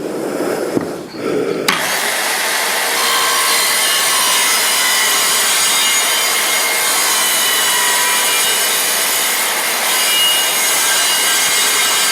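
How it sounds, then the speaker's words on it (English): A power saw plunge-cutting into wood starts abruptly after a brief quiet moment, then roars loud and steady with a rough, grinding rasp for the rest of the stretch. "When doing plunge cuts, slowly, carefully."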